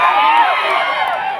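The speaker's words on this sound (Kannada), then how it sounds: "ಜೋರಾದ ಚಪ್ಪಾಳೆ." An audience at a live comedy show bursts into loud cheering and applause, a dense continuous roar of crowd noise close up.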